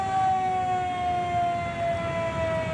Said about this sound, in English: Listen to that siren.